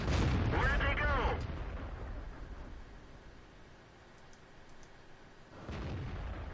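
Tank cannons fire in World of Tanks, in a tank destroyer battle: a loud, heavy blast opens with a ringing whine, a softer rumble trails off, and a second boom lands near the end.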